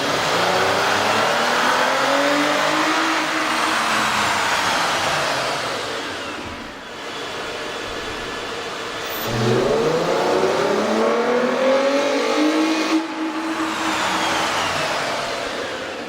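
A Toyota Camry 3.5L engine fitted with a K&N air intake revs loudly up and down close by, rising and falling in pitch through two rev cycles with a dip to idle between them.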